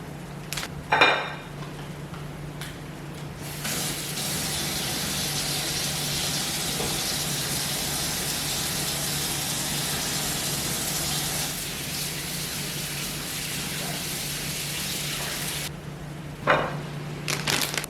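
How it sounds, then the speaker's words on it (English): Dandelion and parsley greens are rinsed under running tap water, a steady close hiss and gush with a few clinks of dishes at the start and end. "Now I'm just going to wash my greens."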